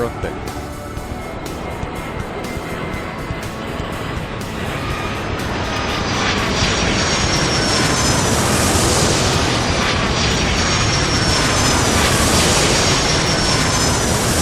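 Jet airliner rumbling and roaring as it takes off in the airport control game Airport Madness 3, a broad engine wash that swells steadily louder and brighter over the runway roll, continuous and close.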